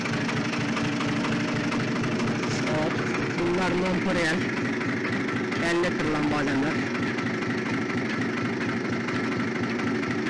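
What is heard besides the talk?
tractor engine running almond harvesting shaker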